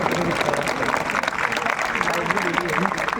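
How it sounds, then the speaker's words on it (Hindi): A crowd at a college kabaddi championship claps steadily, dense and continuous for about three seconds, with a murmur of voices mixed in. "अगर आपको अच्छे लगे हों तो आप उनके लिए तालियां बजा सकते हैं"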